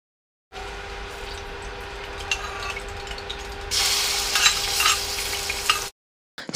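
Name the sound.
chili bean paste stir-fried in oil over low heat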